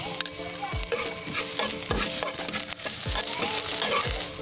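Finely chopped ginger and garlic sizzle in hot butter for a restaurant-style hot and sour chicken soup, a steady close frying hiss broken by regular scraping stirs about once a second, with no talking.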